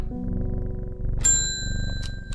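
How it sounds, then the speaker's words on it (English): A bell rings once in the video game Strange Horticulture, a bright, sustained metallic ding with lingering overtones over a steady low ambient hum. "Okay, Hellboy, we gotta ring the bell."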